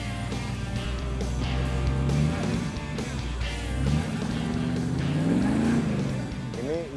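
Ford 32 hot rod with a V8 and automatic gearbox, its engine running close by in a garage, revving in rising and falling sweeps with a rough low burble, while people talk over it.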